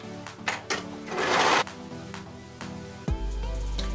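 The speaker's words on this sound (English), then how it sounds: "Right now I'm finishing off those side seams with my serger." Serger finishing the edge of T-shirt fabric, a short whirring run with clicks before and after, then a steady low motor hum near the end.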